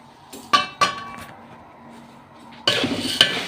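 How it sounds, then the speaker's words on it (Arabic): Vermicelli fried and stirred in a metal pot for Egyptian koshari, with sharp spoon clanks against the pot and a rising sizzle near the end, close and clear with no talk. "بحمرها مكان ما حمرت البصل"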